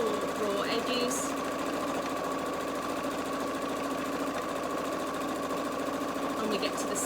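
A sewing machine runs steadily, stitching along the four raw edges of a fabric book cover made from a fat quarter, with a continuous motor hum and faint clicks throughout the clip and no pause.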